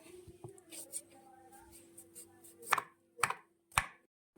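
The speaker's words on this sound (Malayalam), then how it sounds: "ഈ ഒരു വലിപ്പത്തിന് നമുക്കിതെല്ലാം ഒന്ന് അരിഞ്ഞെടുക്കാവേ" A knife cuts breadfruit on a board with three sharp, distinct chops near the end after quieter handling noises, close and clear, with a voice faintly present earlier.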